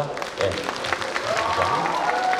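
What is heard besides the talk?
audience applause for the arriving chairman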